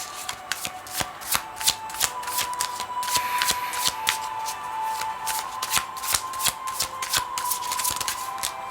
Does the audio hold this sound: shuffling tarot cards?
yes